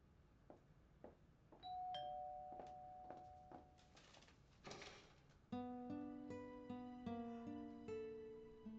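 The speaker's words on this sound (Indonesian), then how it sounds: "Hansiu, ada yang menekan bel dan buka pintu." An indoor doorbell chimes in a melodic sequence of clear electronic tones, first a few notes, then a louder repeated ding-dong phrase with ringing tails, over a quiet room.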